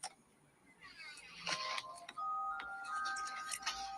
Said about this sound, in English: Doorbell ring.